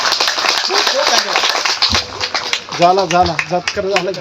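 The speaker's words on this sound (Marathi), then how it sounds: "त्यासाठी जोरदार टाळ्या" An audience at a Buddha Purnima gathering breaks into loud, dense applause that fills the whole stretch, while someone talks over it through a microphone.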